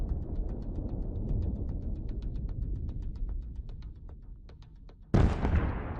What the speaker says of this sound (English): The grenade explodes inside the tank